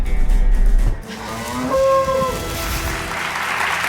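Cattle on a ranch moo loudly and close, a long drawn-out bellow rising in pitch over low rumbling farm background.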